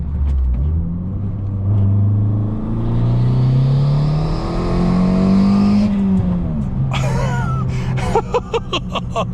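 A 250 bhp Abarth 595 Competizione, close and loud, its engine droning up through rising tones under acceleration with turbo whoosh, then easing off into sharp pops and crackles near the end.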